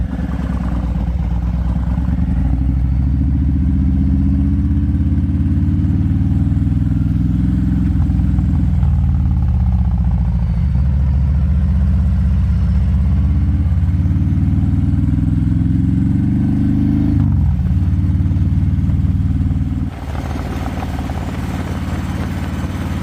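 A Harley-Davidson Low Rider ST motorcycle with a mild performance camshaft rumbles steadily and loudly for over twenty seconds, its deep low drone holding even before a slight drop in tone near the end.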